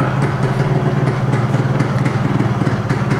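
A Yamaha RX motorcycle idles steadily with its carburettor set just above minimum, giving a close, continuous low throb with a fast, even pulse and slight mechanical clatter, with no talk over it.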